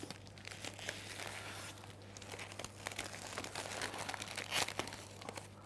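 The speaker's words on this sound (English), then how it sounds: "So you pull the cellophane around the base." Cellophane wrapping crinkling around the base of a red rose hand-tied bouquet, continuous close rustling and crackling with a few sharper crunches, no voices.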